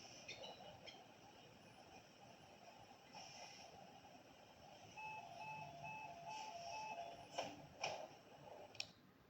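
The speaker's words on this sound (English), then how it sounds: "this was the doors closing chime of this bus" A Singapore bus's door-closing chime, faint and thin, rises in a short stepped tone sequence over the low rumble of the moving bus, with a few sharp clicks and knocks near the end.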